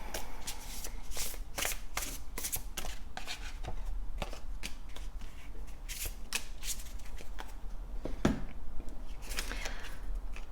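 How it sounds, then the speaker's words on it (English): Tarot cards are shuffled by hand close up, a continuous soft riffling and rustling with repeated sharp slaps and flicks as the deck is cut and bridged, no voices present. "Let's take out some card to complete this message."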